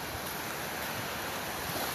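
Sea waves wash steadily onto the shore at Boracay beach, a continuous broad surf roar mixed with wind noise and no talking.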